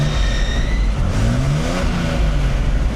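A Mercedes C107 280 engine, just repaired after a fuel distributor fault, idles and revs up close by after a restart. A steady mechanical hum rises and falls as the revs climb, with no talking.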